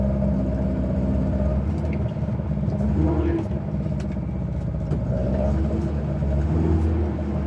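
Hot-rodded BMW 2002 revving with its tire spinning, a loud, steady rumbling engine under a continuous rough texture, with people talking over it.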